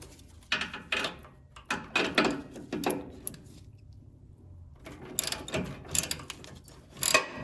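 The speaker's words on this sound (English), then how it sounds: "My 18mm ratcheting wrench on it, so I can keep an eye on it." An 18mm ratcheting wrench loosening a suspension end link on a 2020 Ford F-150 during a FOX 2.0 coil-over install, clicking in quick close bursts of ratchet ticks separated by a brief pause.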